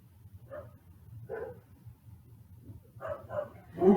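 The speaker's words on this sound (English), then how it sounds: "The dog is barking upstairs." A dog barking upstairs, several muffled, moderately distant barks spaced irregularly, the last one louder.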